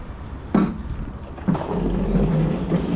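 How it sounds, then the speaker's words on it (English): Light drizzling rain outdoors, a steady soft patter with a low rumble and a couple of louder bumps, fairly close and continuous for the whole stretch, with no voices. "it's just kind of drizzling"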